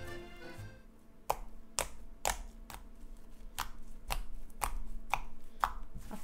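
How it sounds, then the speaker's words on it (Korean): Slime being squished and pressed by hand, producing a regular series of sharp clicky pops roughly every half second, close and crisp with no talking. "아까보다 더 클리키 소리가 더 잘 나는 것 같은데"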